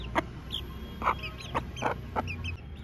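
A chicken clucking near Aseel rooster feed, several short soft clucks and pecking chirps spaced irregularly, close and fairly quiet against a light background hum.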